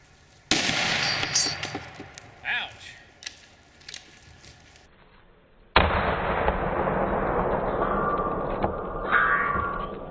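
A Winchester PDX1 .308 rifle round fired into a ballistic gel block: a sharp, loud report at the start, then a second burst of blast noise later, with some voices around.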